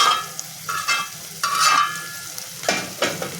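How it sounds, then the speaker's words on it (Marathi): Paneer pieces fried and then stirred into a masala in a pan, giving a steady soft sizzle broken by several scraping stirs of the spatula, close and moderately loud with no voices. "इथे मी जे पनीर फ्राय करून घेतलेले होते पनीरचे पीस मी टाकून घेणार आहे"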